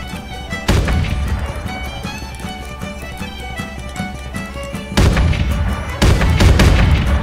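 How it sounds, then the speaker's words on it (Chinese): Cannon fire and explosions in Mount & Blade II: Bannerlord with a gunpowder mod, heavy booms rolling over a dense battle din, with a loud blast near the start and two more sudden surges toward the end. "我怕他们的这个炮啊能炸到我们自己人啊"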